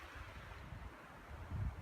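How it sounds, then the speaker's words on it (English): Steady wind buffeting a microphone on a mountain trail in the Great Smoky Mountains, a broad low rumbling roar that swells louder toward the end, with no voices. "It's a little windy here"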